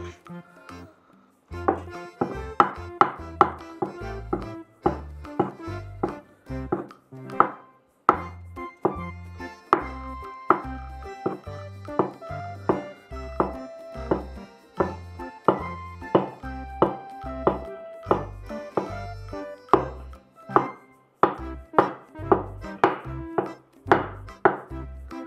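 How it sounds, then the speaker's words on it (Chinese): A knife dicing food on a cutting board, with fast, rhythmic, loud chops in regular bursts and short pauses between runs, heard close up and alone without talk. "再把它切成丁"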